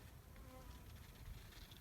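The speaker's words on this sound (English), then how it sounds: "This field is absolutely buzzing with my bees." Honey bees forage over a freshly blooming sunflower field, making a faint, continuous hum of many wings with no pauses.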